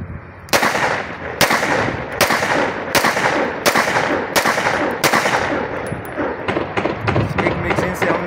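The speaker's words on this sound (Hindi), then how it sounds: "इसके ऊपर हम टेस्ट फायर करते हैं" Pistol test fired through a full magazine, about a dozen loud, close shots, slow and evenly spaced at first and then quicker, with talking underneath.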